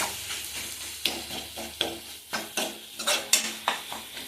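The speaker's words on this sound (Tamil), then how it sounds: "ஒரு துண்டு வெல்லத்தையும் அது கூட போட்டு வதக்குங்க." Ginger and a piece of jaggery are sautéed in a pan for a chutney, a soft sizzle punctuated by repeated sharp spatula scrapes and stirring strokes, close and without speech.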